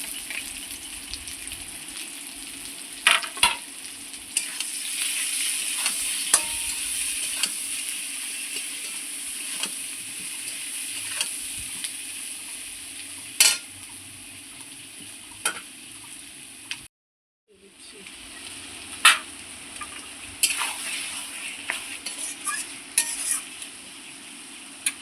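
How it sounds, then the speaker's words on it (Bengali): Potatoes with chopped onion and spices stir-fried in a pan: a steady close sizzle runs throughout, broken by sharp scraping clicks of a spatula against the pan and a brief pause near the end. "দেখুন মশলাটা আমি কত সুন্দর আলুর সঙ্গে কষিয়ে নিচ্ছি,"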